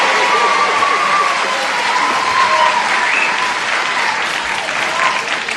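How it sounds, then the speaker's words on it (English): A studio audience claps and cheers loudly in a dense, sustained wave that carries evenly from start to finish. "They're cheering and screaming and hollering there"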